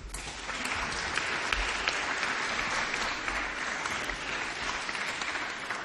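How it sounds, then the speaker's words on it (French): Audience applause at an Armistice Day ceremony, a dense, steady clapping of many hands that continues at an even level for about six seconds, heard alone without talk. "Je vous demande de l'applaudir."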